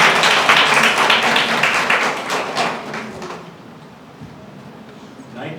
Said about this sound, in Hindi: जोरदार तालियां बजती रहनी चाहिए।